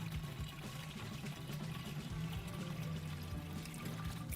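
Water pours steadily into a balloon set inside a stove to raise humidity, a continuous close trickling and gushing fill with low rumbling underneath and no talk.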